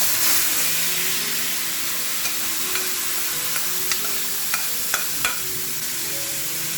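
Pressure-cooked tomatoes frying and being mashed in a pan, a steady loud sizzle broken by a series of light, evenly spaced taps and scrapes from the utensil.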